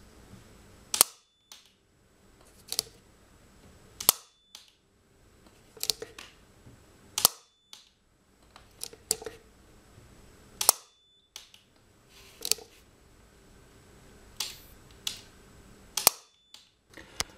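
Molded-case circuit breakers tripping during a selectivity test, including a 40-amp incoming breaker under a 375-amp fault current: a series of about ten sharp, loud mechanical clacks at irregular intervals, with quiet gaps between them.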